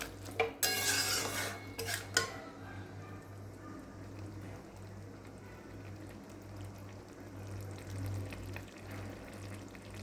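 Boiled mung dal and bottle gourd are stirred in a pan to dry them out, opening with a few sharp metal clanks of utensil on pan. A faint, low sizzle and quiet stirring follow.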